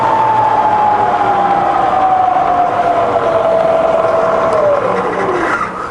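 A fully rebuilt Bridgeport milling machine spindle running at 350 RPM, a steady close whirring hum with a faint whine that slowly drifts lower and fades slightly near the end.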